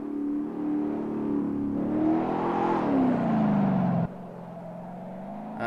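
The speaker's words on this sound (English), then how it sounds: "Managed to get a nice drift around both corners at the slip curve area" A car drifting around a pair of corners in third gear, engine droning steadily with rising and falling pitch as it holds the slide, loud and continuous, then dropping in level near the end.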